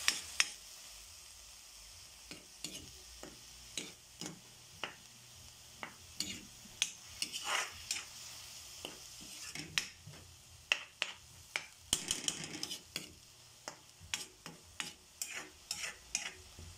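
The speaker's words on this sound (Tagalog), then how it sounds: "Gisa-gisa natin." Bagoong alamang, shrimp paste, sautéed in a pan with a utensil, a low sizzle under frequent sharp scraping and tapping clicks that grow busier toward the end, nearby and fairly quiet, no talking.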